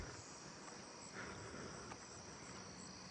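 Robust conehead katydid singing at night in a neighbourhood, a continuous high buzzing drone from some distance away, steady and fairly faint, with no talk over it.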